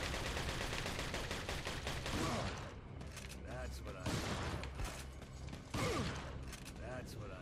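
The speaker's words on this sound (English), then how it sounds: "A shotgun to the face." Repeated gunfire bursts from a shotgun in the video game Resident Evil 4, HD project mod, loud and sharp over busy game noise and chatter, with several blasts spread across the moment.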